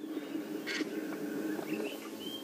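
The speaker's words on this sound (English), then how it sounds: "And so Brett's helmet shrike" Helmetshrikes, agitated by nearby predators, give a few faint, sharp calls during a safari drive, set against a steady low rumble.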